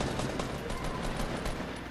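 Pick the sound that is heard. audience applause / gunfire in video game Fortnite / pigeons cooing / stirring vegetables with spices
gunfire in video game Fortnite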